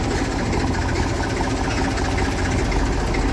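A farm vehicle's engine with a trolley hitched behind idles in low gear: a steady, close, low rumbling drone with slight vibration and no breaks, lasting a few seconds.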